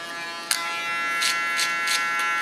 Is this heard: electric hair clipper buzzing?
yes